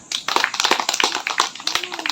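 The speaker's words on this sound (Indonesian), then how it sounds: "Tepuk tangan." A group of students claps in a classroom during a teaching session, a quick burst of uneven, close claps with a brief voice near the end.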